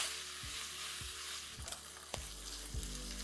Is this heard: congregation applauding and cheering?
no